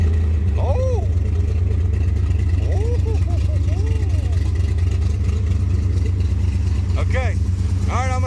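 A 1973 Plymouth Satellite with a 451 stroker engine runs loud and steady throughout, with a deep continuous rumble and voices talking over it.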